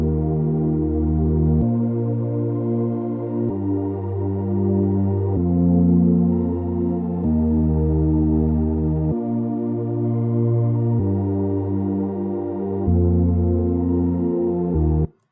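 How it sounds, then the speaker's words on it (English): Layered synth pads built from two Silent 1 presets, sustained chords shifting every couple of seconds, smooth, full and continuous with no voice over them. "The pads add a lot of body to the break, and they are just two Silent 1 presets."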